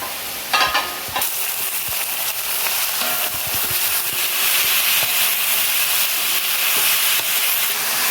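Onions and green chillies frying together in a pan for mutton biryani, a steady loud sizzle with crackling throughout and a few brief clatters near the start.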